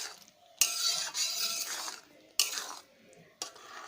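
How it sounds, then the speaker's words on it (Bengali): Fried paneer cubes and spinach stirred together in a pan, giving a few bursts of scraping and clattering utensil noise separated by short pauses, close and moderately loud. "পালং শাকের সাথে পনিরগুলো নাড়া দিয়ে নেব।"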